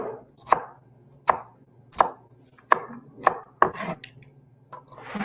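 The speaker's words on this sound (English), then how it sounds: "And then we'll just make little matchsticks." A knife chops fruit into thin matchsticks on a board in six or seven crisp, evenly spaced strokes about every second, close and clear against a quiet background with no talking.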